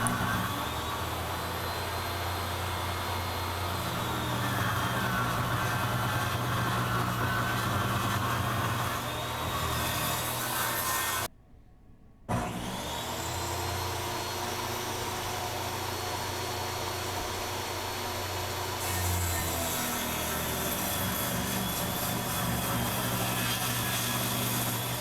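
Small table saw grinds slowly through a thick chunk of mahogany, a loud, strained, steady drone that drops out for about a second before resuming, with a faint hiss on top and no talking.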